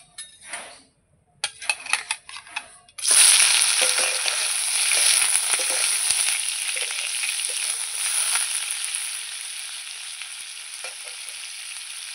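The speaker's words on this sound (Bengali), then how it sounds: "অল্প একটু ঘি আর তেল দিয়ে পনিরটা ভেজে নেব।" Paneer pieces fry in a pan of hot ghee and oil. A few clinks come first, then a loud, steady sizzle starts at about three seconds and holds close and continuous to the end, with no talking.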